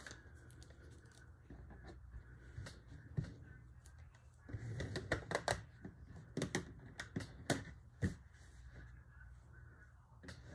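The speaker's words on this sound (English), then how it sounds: "So I'm just gonna put some more rubber bands on." Rubber bands snap and stretch around twisted fabric during a liquid tie-dye spiral, giving irregular close clicks and small snaps over a quiet background, busier in the second half.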